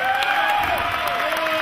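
Wrestling crowd claps and cheers for wrestler David Finlay at an independent show, a steady roar of applause with scattered whoops and a faint voice beneath.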